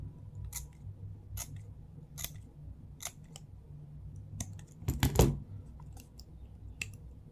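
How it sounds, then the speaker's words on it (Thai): Scissors snip palm leaf strips into cicada legs for woven palm-leaf craft, a steady run of crisp close cuts about one per second with a louder rustling cluster near the end, in a quiet room. "ตัดเป็นขา 4 เส้นนะครับ"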